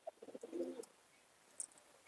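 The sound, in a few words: Giribaj pigeon cooing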